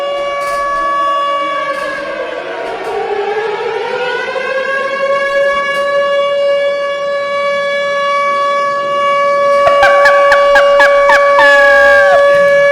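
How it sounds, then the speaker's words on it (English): A loud wailing siren sound effect rises and holds a steady tone, then breaks into a rapid, warbling yelp near the end, with no talk over it. "can I hit my sirens real quick?"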